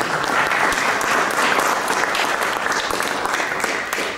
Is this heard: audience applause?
yes